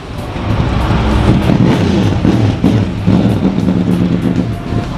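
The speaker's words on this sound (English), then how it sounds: "So you can hear people starting up their cars." Race cars at a racetrack paddock idle and rumble after starting up, with several engines layered in a loud, steady drone throughout.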